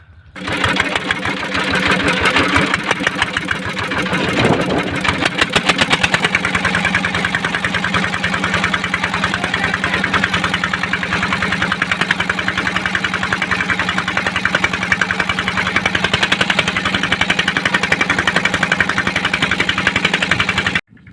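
A trawler boat's engine chugs on the Jamuna River, a steady, loud mechanical drone with rapid regular knocking that runs unbroken for about twenty seconds.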